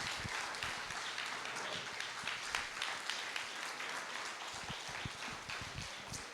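A church congregation applauding during a Sunday morning service, with dense, steady clapping from many people heard from a distance at a faint level for several seconds.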